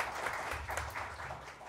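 A small club audience at a jazz sextet gig claps for a few seconds, a steady patter of many hands at moderate level, faint low hum beneath.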